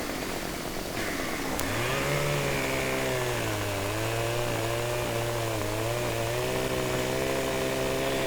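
A chainsaw in Farming Simulator 15 drones loudly and continuously while cutting trees, its engine pitch rising at the start and then wavering up and down under load.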